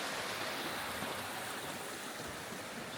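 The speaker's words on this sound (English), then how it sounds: "There's a beautiful stream up the way." A stream on the Appalachian Trail rushes steadily near a bridge crossing, a constant full broadband wash of flowing water heard close and alone.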